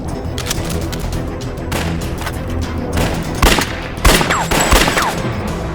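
Gunfire in a drama action scene: a run of sharp, close shots comes in bursts over a tense, busy background, growing denser toward the end, with no speech.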